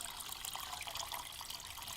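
Water is poured gently into an 8-gallon nano aquarium, ideally onto a rock, producing a steady, close splashing trickle that runs without a break and without any talking.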